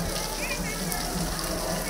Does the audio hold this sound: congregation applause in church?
no